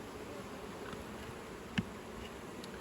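A steady, even hum of many honeybees buzzing close by at an open hive being split, continuous throughout with one brief soft knock near the end.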